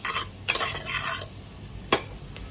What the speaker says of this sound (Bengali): আমার পেঁয়াজগুলো ভাজা হয়ে গেছে, আমি এখানে পেঁপে আর আলুগুলো ছেড়ে দিচ্ছি